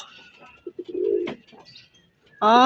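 Pigeons coo softly at a loft as a checkered white-feathered bird enters, with short low calls building to a louder, close cooing burst at the end.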